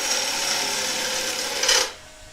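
A gouge cuts into wood on a lathe while a thin-walled bowl is turned, giving a steady, close hissing scrape that swells briefly and then stops abruptly near the end.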